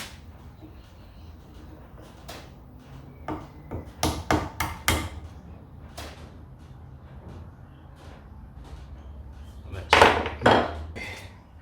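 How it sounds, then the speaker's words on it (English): Sharp metallic taps from a small hammer on a Range Rover Sport TDV6 turbo ring out in irregular clusters, a quick run in the middle and another near the end, close by with faint background noise. "Got a little hammer there."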